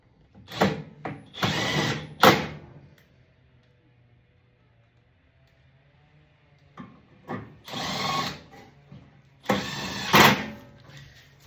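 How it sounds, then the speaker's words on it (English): Cordless power drill driving screws into a Pit Boss pellet smoker during an auger repair, several short whirring bursts in two groups separated by a quiet pause, close and fairly loud. "Change that drill to tighten because we're tightening everything now."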